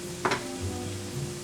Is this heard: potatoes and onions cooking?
yes